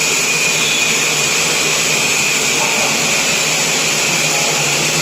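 GREAMAT 805 CNC turning lathe running with a loud, steady high-pitched whine and broadband hiss throughout, close and continuous with no breaks.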